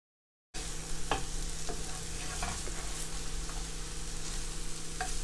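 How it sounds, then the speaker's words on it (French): Egg and tomato chakchouka sauce simmering in a pan over low heat gives a steady, close sizzle with occasional soft stirring clicks throughout, and no talking. "on laisse vraiment à feu doux, mijoter"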